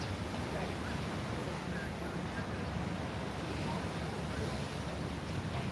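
Waves on a beach, a constant rushing surf mixed with wind buffeting the microphone, steady and fairly loud throughout with no distinct speech.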